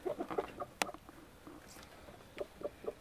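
Hens cluck softly in short, scattered bursts nearby on a farm, with a sharp tap partway through and quiet background between calls.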